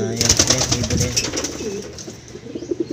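A pigeon coos close by in soft repeated calls, with a person talking over it.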